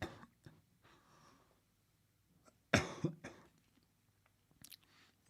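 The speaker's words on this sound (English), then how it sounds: "I'm just going to cough a minute" A few close coughs, one strong burst mid-clip and smaller ones around it, with breathy quiet between.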